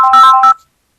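A short electronic telephone ring on a radio call-in line, a single bright tonal burst in two pulses lasting about half a second, then silence.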